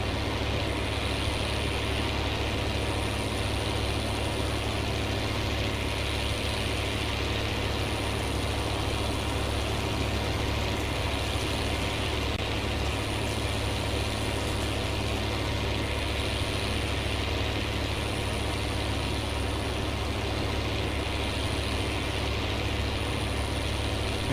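A steady, unchanging tractor engine idle in Farming Simulator 19, with a deep low rumble and a faint rhythmic high whine pulsing above it, constant throughout with no voices.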